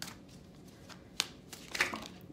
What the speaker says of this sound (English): I'm just gonna do one more shuffle